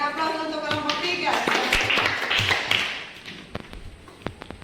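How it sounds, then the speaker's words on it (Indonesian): Students in a classroom applaud group 3 with a short burst of clapping that overlaps a voice and fades into scattered taps. "Oke, berikan aplaus untuk kelompok 3."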